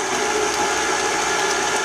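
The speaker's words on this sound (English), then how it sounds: "we're using the stand mixer and just mixing it up" A stand mixer beats room-temperature butter until fluffy, giving a steady, loud motor whir that runs unbroken throughout with no talking.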